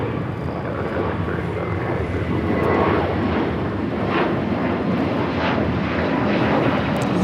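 A jet airliner takes off at Los Angeles LAX airport, and its loud, broadband engine roar holds steady throughout, with a distant rumbling quality.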